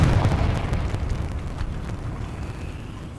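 A Confringo spell explodes in Hogwarts Legacy, a single loud, deep blast that rumbles and decays over a few seconds.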